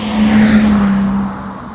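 A BMW E30 Hartge with a city exhaust line, spaghetti headers, twin downpipes, mid pipe and muffler, gives a loud, close, steady engine drone that briefly holds then fades as it moves away.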